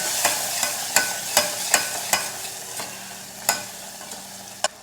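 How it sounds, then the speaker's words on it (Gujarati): A spoon scrapes rhythmically through muthiya curry with coriander-cumin powder and garam masala in a hot pan, with about a dozen sharp strokes over a steady background sizzle and no talking. "ફરી આપણે બધું સારી રીતે મિક્સ કરી લઈએ"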